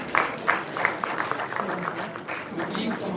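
Applause breaks out at a law college Model United Nations valedictory ceremony, scattered claps ringing in a hall while a voice talks over them.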